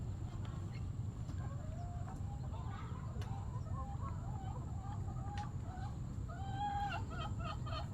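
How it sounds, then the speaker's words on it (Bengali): Roosters on a rural Barishal homestead cluck repeatedly in short, close calls as they follow the woman of the house indoors, over a constant low background hum. "এই মোরগগুলো যাচ্ছে ঘরে"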